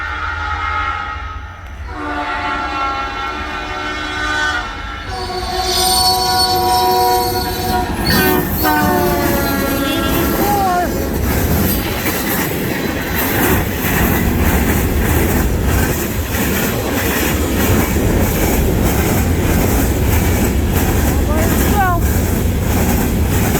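A CN freight train arriving at Ladysmith, with several loud, distinctive multi-tone horn blasts up close, followed by a rumbling, clattering passage of cars and occasional wheel squeals, and someone speaking over it.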